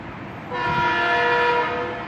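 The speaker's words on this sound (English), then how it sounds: "One minute later, this train comes." A train sounds its horn passing through Stamford station, a loud sustained multi-tone blast that starts abruptly and holds steady over a rumbling rail background.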